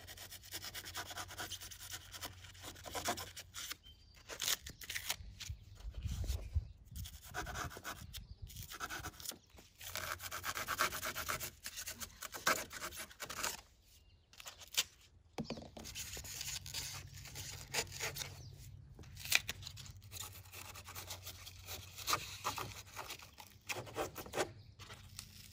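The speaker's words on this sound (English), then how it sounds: "I'm going to cut off the excess foam." Excess dried expanding foam being cut away from T111 wood siding on a new shed, heard as close, irregular scraping and rubbing strokes with brief pauses and no talking.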